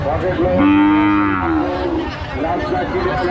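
A cow at a livestock market gives one long, loud, close moo that rises and then trails off, followed by quieter lowing.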